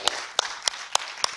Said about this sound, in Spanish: Den un aplauso al Señor, si usted lo cree.